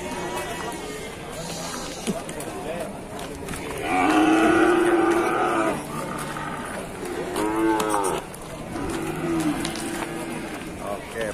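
Buffalo lowing as they are unloaded and landed, several loud drawn-out moos rising and falling over a continuous background of crowd noise and shuffling movement.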